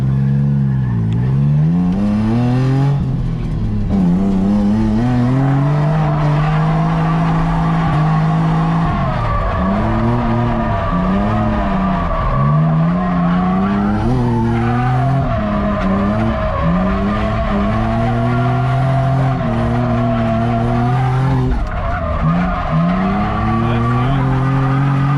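A Nissan 350Z drifting, its engine revving hard with rising and falling pitch as the tires squeal and skid in long loud sweeps; close and continuous, with no talking.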